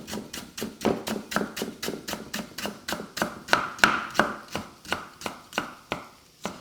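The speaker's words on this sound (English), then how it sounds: "You don't need to peel your galangal, just slicing's fine. So I'm going to get that in half first so it's easier." A knife slices through galangal root on a cutting board, making a steady run of about twenty sharp, close chopping taps at an even rhythm, with no voices.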